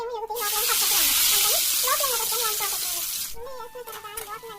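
Bitter gourd slices fry in hot oil over a low flame, giving a steady bright sizzling hiss that fades after a few seconds, while someone talks over it.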